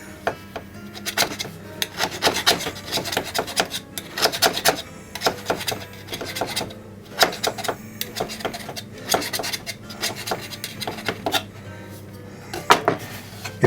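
Pie crust dough is trimmed around the edge of a pie dish while making an award-winning pie, a series of soft scraping and rubbing strokes in irregular bursts, fairly close, with little talk.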